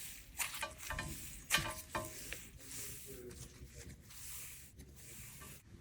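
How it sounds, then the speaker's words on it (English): Soft crackling and fizzing sizzles from squished Icee slime, with a few sharper pops and quiet stirring sounds, close and fairly faint. "This is an Icee slime. It has amazing sizzles"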